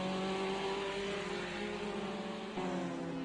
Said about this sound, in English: there's just way too much car noise this week